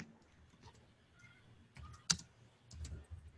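Someone types a Splunk command on a computer keyboard, giving close, quiet, irregular key clicks with one sharper keystroke near the middle.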